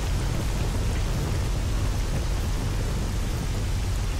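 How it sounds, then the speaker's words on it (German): Thunderstorm in the S.T.A.L.K.E.R. Call of Pripyat video game, dense heavy rain hissing steadily with low rumbling thunder beneath, loud and continuous with no voices. "das ist Gewitter gerade laut"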